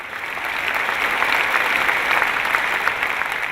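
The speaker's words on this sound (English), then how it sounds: "Let's give a big hand to all those who said kids." Sustained applause from a seminar audience, a dense steady wash of many hands clapping at full strength throughout, fairly loud and close.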